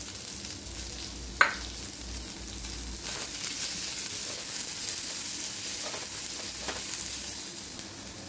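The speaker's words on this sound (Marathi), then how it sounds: "धने आणि कांदा टाकून घ्यायचा। आपण घेतलेल्या कांद्यामधला थोडासा कांदा यामध्ये टाकून घ्यायचा।" Onion, coriander seeds and a little cumin frying in a pan for Vidarbha-style khandoli bhaji, a soft continuous sizzle with occasional sharp clinks and stirring scrapes, close up, no voices.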